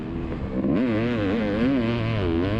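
Yamaha YZ500 two-stroke dirt bike racing a 450 four-stroke on a motocross track, engines wailing loud and close with rising and falling revs, the pitch sweeping up and down through gear changes.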